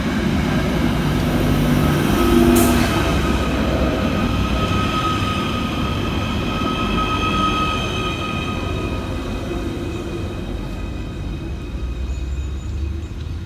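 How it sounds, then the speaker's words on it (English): A Merseyrail class 777 electric train draws into a station, a steady rolling rumble with a high electric whine and tonal hums that slowly fade as it slows. "Arriving next into the station is 777-142, working the 1238 Merseyrail electric service from Liverpool Central through to Headbolt Lane"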